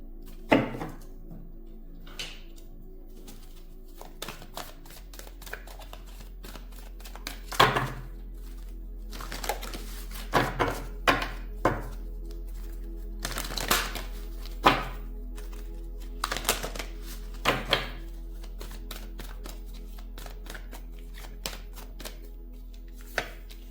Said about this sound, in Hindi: मैं आज थोड़े से कार्ड्स निकाल लेती हूँ